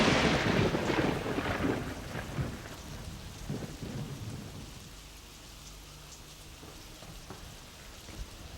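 Heavy rain pours with rolling thunder rumbling loudly at the start, then easing into a steady downpour that continues alone for the rest.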